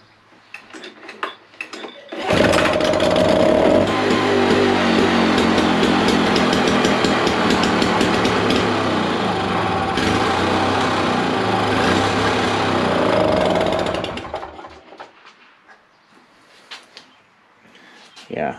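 A Toro two-stroke engine, just back from throttle cable and carburetor work, bursts into a loud, close, buzzing run for about twelve seconds, then dies away, with brief clatter and talk around it.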